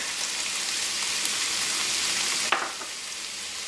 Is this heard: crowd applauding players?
no